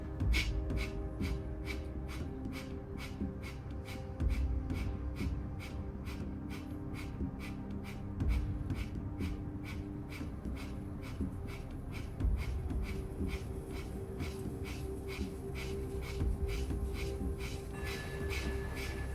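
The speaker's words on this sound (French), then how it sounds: "Et respiration du feu." Breath of fire yoga breathing exercise, rapid forceful rhythmic exhalations through the nose, about two per second, steady and close throughout with quiet background music and no talking.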